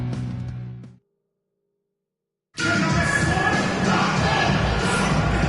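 Basketball arena crowd noise in an NBA 2K video game, a loud roaring crowd cutting off abruptly, then silence, then a sustained cheering crowd roar returning at full level.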